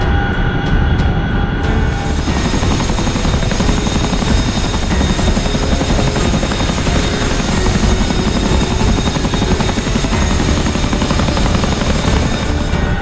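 A CH-47F Chinook tandem-rotor helicopter flies in the DCS World combat simulator, its loud steady rotor thump and engine roar continuous and close throughout, with a brief higher whine at the very start.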